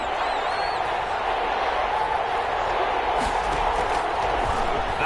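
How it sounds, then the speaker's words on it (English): A stadium crowd roars steadily in an American football video game, a constant broad wash of cheering with a few louder swells, building ahead of a big third-down play. "the crowd getting into it"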